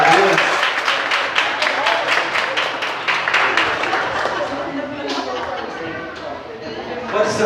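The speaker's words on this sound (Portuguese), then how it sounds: "Vamos aplaudir a Deus, Senhor Jesus, para Deus." A church congregation claps together during a worship service, a dense, fairly loud wash of rhythmic applause that thins out toward the end, with voices and chatter mixed in.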